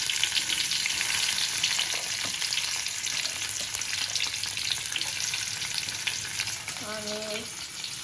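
Onion and tomato frying in hot oil over a fairly high gas flame, a loud, continuous close-up sizzle with faint stirring scrapes and no talk.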